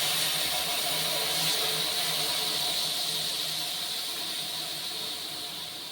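Mustard water poured slowly into a hot pan with amra while cooking a fish roe dish, producing a continuous bright sizzling hiss that stays strong and fades slightly toward the end.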